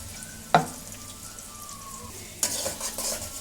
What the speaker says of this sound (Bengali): ভালো করে কষিয়ে নেব ভাজা ভাজা করে নেব রসুনটা